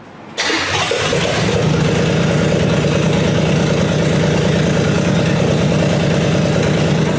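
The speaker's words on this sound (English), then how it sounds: "let's run the engine one last time" A Chevrolet 327 V8 cranks and fires, then settles into a loud, steady rumbling idle close by with no talking.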